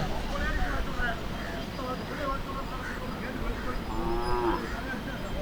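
Native cattle moo at a rural livestock market, with several long, drawn-out calls rising over a dense, noisy background of crowd murmur and market bustle, fairly loud and near.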